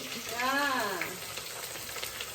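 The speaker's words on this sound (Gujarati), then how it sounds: "ડુંગળી શેકાય ત્યાં સુધી પેલી સાઈડની અપડેટ લઈને આવી." Onions sizzle steadily in a hot pan, being fried for a tempered Gujarati khichdi. The frying hiss runs continuously, with a short voice or squeak rising and falling through the first second.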